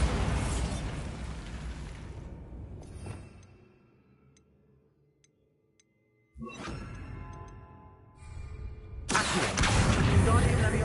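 A Bombarda spell blast from Hogwarts Legacy hits loudly at the start and fades into quiet, then further bursts and whooshing effects return near the end.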